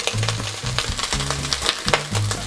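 Meat browning for ragù in a pan over raised flame, a steady crackling sizzle with scattered sharp pops and low stirring scrapes, close and moderately loud, no talking.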